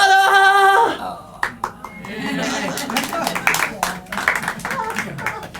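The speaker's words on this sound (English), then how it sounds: "That was such a bad applause." A few thin, scattered claps from a small audience follow a coin-in-hand magic trick, brief and unenthusiastic, after a short sustained tone, with a voice talking over the weak applause.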